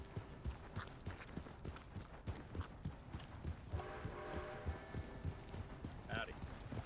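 Horse hooves clip-clop at a steady walking rhythm on a road in the video game Red Dead Online, evenly spaced thuds under soft background ambience and faint chirps.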